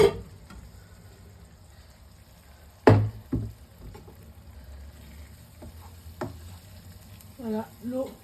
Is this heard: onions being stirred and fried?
yes